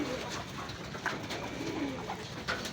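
Racing pigeons coo softly after arriving back at the loft, with low, rolling calls repeated now and then against quiet outdoor background noise.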